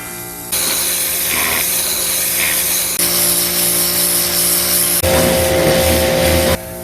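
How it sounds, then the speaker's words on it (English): Greenworks 2000 PSI 13 amp electric pressure washer spraying outdoors: a steady, loud hissing rush with a constant motor hum underneath, the spray intensity shifting in a few distinct stretches before cutting off. "So what do I think about the Greenworks pressure washer?"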